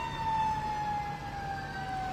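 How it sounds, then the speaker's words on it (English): A fire truck siren in Madison sounds as the truck passes by: a steady, high wail holds at moderate loudness and slowly sinks in pitch as it goes. "Fire truck passing us right now in Madison."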